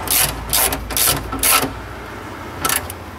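A ratchet clicks in four quick bursts with short pauses between them, then one final burst, as it snugs up bolts on a Honda Odyssey power sliding door motor. The clicks are close and loud, with no talk.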